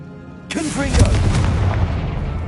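The Confringo blasting spell detonates in Hogwarts Legacy inside a decaying catacomb: a single sharp, loud blast with a crackling burst, then a low rumbling tail. A spoken incantation overlaps the start of the explosion.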